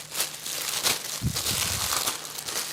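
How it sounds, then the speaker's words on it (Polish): Protective plastic film on gear from an escape backpack bought at Biedronka, crinkled and crumpled in continuous close rustling bursts for a few seconds, with no talk. "To jest prawdopodobnie folia ochronna."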